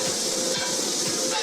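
Browning sausage for stuffed rainbow trout sizzles and hisses steadily in a hot pan, a close, continuous crackle with light scraping taps, no voices over it.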